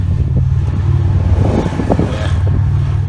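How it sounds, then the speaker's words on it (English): Loud motorbike engines rumble and rev close by, a steady throaty drone with rising surges as they pass. "Noisy bikers."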